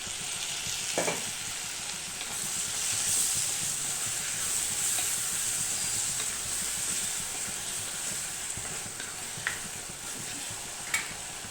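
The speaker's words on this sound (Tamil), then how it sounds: "இந்த பாவக்காயை இந்த வெங்காயத்தோடு சேர்த்து லேசாக வதக்கி விட்டுட்டு" Bitter gourd and onion sauté in a hot pan with a steady, bright sizzle and hiss, broken by a few scraping stirs of a spoon; no voices.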